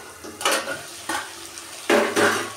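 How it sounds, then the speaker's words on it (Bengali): A lid comes off a pot of potato and soybean curry with a few separate metallic clanks and scrapes, close and moderately loud, against a quiet sizzle in the background. "এবার আমি ঢাকনাটা তুলব"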